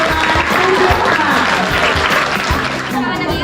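Classroom audience applauding a student named Gayatri after her presentation on a school project: a burst of dense, lively clapping that holds steady for a few seconds, with some crowd murmur mixed in.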